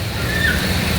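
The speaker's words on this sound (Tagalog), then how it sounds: "kasalukuyang malakas ang buhos ng ulan dito sa ating lugar" Heavy rain pours in front of a church in Pasig City, a dense, steady, loud wash of noise with a sloshing low rumble and no voices over it.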